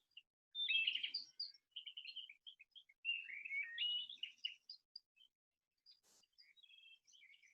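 Birds sing in spring trees on a mountain slope, clear bursts of bright warbling and chirps with short pauses between phrases, close and alone in otherwise quiet air.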